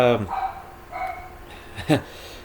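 A dog barks once or twice close by, short sharp yelps breaking through someone talking about a custom Bowie knife indoors.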